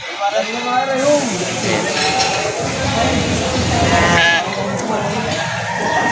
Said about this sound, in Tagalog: Yan ang mga tupa.